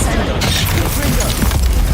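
Confringo fire spell blasts in the Hogwarts Legacy video game, a loud, continuous barrage of booming, crackling combat noise with dense overlapping impacts throughout.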